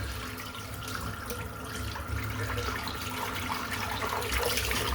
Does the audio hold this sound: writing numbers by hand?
no